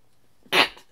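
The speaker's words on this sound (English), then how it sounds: "I feel like I have to sneeze in a minute." A single sharp human sneeze bursts out close and loud after a brief quiet lead-in, then tails off quickly.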